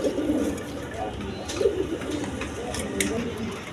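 A pair of snake-eye pigeons for sale coo softly in their enclosure, the low murmuring calls repeating under a voice speaking close by.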